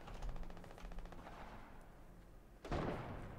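Rapid gunfire from a gun in Fortnite rattles in a fast repeating burst, then tails off before a louder sharp blast near the end, all fairly close and without talk.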